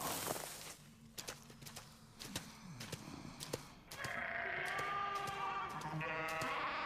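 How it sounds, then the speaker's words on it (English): A flock of sheep bleat in short, scattered calls, some near and some farther off, with a denser overlapping chorus building in the second half. "Sounds like a flock of sheep followed you home last night."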